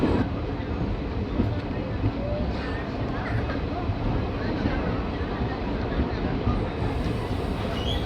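An InterCity Express train arriving at Dalgaon station in the Dooars gives a continuous, fairly loud rumble and rattle of wheels and carriages that holds steady throughout, with faint voices in the background.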